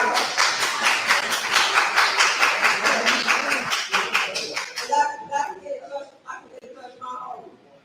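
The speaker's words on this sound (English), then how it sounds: "Who that is clapping all that like that?" Several people clap in a fast, even rhythm during a city council meeting in Harvey, the claps fairly close and loud for about five seconds before stopping, after which people talk.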